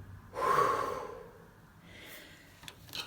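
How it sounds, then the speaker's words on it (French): A woman out of breath gives one loud, heavy gasping breath near the start, then quieter panting breaths follow alone, close and clear. "je suis essoufflée"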